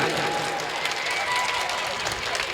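Audience clapping at a mushaira poetry gathering, a steady broadband patter that holds loud from start to finish, with crowd murmur mixed in.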